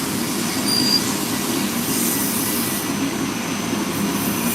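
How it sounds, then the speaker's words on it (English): An oscillating belt sander runs steadily throughout, a loud continuous grinding whir with a constant, even level and no talking. "So Vicky is using the oscillating belt sander right now."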